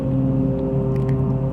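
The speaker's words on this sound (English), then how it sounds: "Now I got lawnmowers right outside my window." A lawnmower runs right outside a window as a steady, droning motor hum with no break, heard through the wall at moderate loudness and with no one talking.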